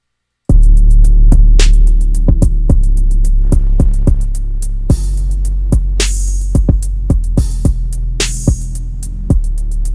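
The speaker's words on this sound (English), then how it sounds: "I might try to add some distortion just to see if I can get that bass synth type of feel." A heavily distorted bass synth in a hip-hop beat drones loud and sustained, with sharp percussive clicks and hits scattered on top. No one speaks.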